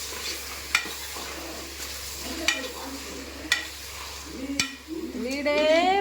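Chicken gravy sizzles and fries in oil in a pan while a spoon scrapes and stirs it in several sharp strokes, steady frying hiss underneath, and a voice joins briefly near the end.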